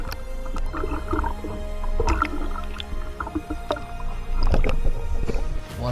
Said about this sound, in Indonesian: Di luar Nurul, teman kita ada yang nyuncul pakai sampan.